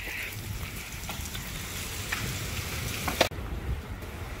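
Heavy rain pours steadily around a fort in Nalagarh, a dense, even hiss close by that runs without a break from start to finish, with a few brief knocks and one sharp bump near the end.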